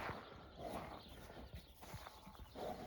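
Horse hooves clip-clop in a slow, uneven rhythm, faint and somewhat distant, with no talking.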